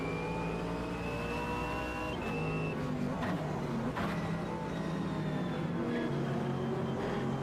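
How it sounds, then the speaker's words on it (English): A full grid of GT3 race cars at Alton Park in the racing game Automobilista 2, several engines droning and revving together in a constant roar with shifting pitches. "So this is a full grid of GT3 cars at Alton Park."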